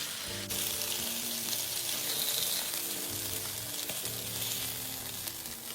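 Meat chunks frying in oil in a non-stick pan, giving a steady, close sizzle and crackle that carries on throughout with a few soft stirring touches and no talk.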